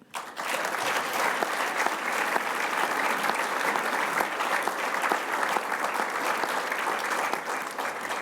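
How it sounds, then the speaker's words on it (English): An audience at the Parking Industry Awards 2024 breaks into sustained applause, a steady, full wash of many hands clapping that rises quickly and holds for several seconds before easing slightly at the end. "Would you please join me in a round of applause"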